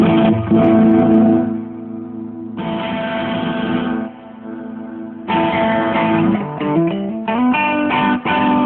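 Distorted electric guitar chords ring out loud and gritty through a high-gain distortion effect, sustained then changing in a quicker sequence of fuzzy notes near the end.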